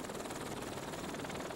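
Los Angeles City helicopter arriving over a cliffside rescue of two children, its steady rotor thrum and engine roar filling the air continuously at moderate volume, with no voices heard.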